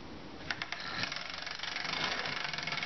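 Trackmaster motorized toy train engines run steadily on their track with a continuous close, buzzy whir and a rapid rattle of wheels and gears. A few brief clicks sound near the start, and no one speaks.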